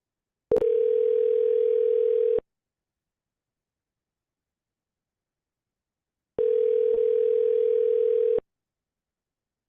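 Two long ringback tones on an outgoing phone call, each about two seconds, separated by a long silence. The tones are steady and clear, with no voices.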